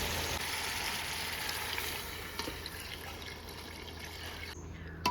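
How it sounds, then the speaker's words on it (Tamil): Water being poured into a pan of simmering chicken curry, a steady broadband splash and hiss running continuously, close and moderately loud, tapering off near the end. "அவ்வளோதான், தண்ணி ஊற்றிட்டேன்."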